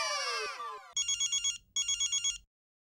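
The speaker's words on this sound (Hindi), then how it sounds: "आप मुझे फोन कर रही हैं और मैं आपका फोन उठा नहीं पा रहा हूँ।" A telephone rings with two bursts of fast electronic trilling tones, following a short descending musical sweep, then falls silent.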